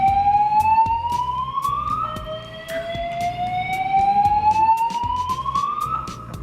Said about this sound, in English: I've never experienced a fire alarm in this building.